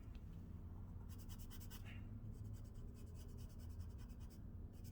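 An eraser rubs lightly over a pencil value drawing on paper, making faint, soft scratchy strokes in short bursts that come and go in a quiet room.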